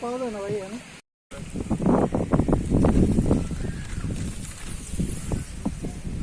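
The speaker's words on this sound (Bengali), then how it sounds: "প্রচুর বাতাস বহিতেছে" Strong gusty wind buffets and roars across the microphone in heavy bursts, loud and close, on a boat during a storm, with a voice heard briefly at the start.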